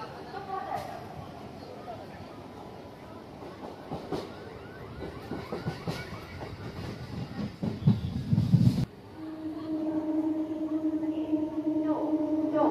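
A local train running between Titagarh and Khardah stations rumbles with rhythmic wheel clatter and rattling carriage noise from inside the compartment, growing rougher before a brief dip, then a steady hum with a tonal whine; a voice speaks over it.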